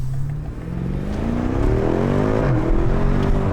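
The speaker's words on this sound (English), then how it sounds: "For such a big car, this thing just takes off so fast." A BMW M5 F90 engine roars loudly and close, its pitch climbing steadily as it accelerates hard, with no talking.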